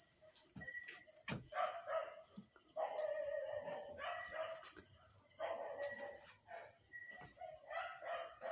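A dog barks in bursts outside a spooky old house at night, fairly distant and faint, repeating irregularly over a steady high insect-like hiss, with possible rooster-like calls mixed in.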